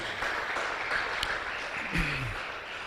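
A church congregation claps during a worship service, soft, distant continuous applause washing through the room, with a short low voice surfacing near the end.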